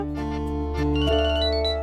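A telephone ringtone plays a sustained electronic melody of steady tones, with no voices.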